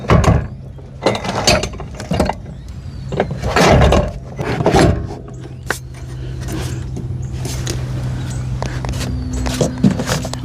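A Trailer Valet electric trailer jack with integrated scale slides into its mount, giving several heavy metallic clunks and scrapes up close, followed by a quieter handling rustle and faint hum.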